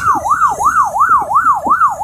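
An emergency siren wails loud and close during an Independence Day rally in Lagos, sweeping up and down in a fast, regular yelp cycle about six times with no break and no talk over it.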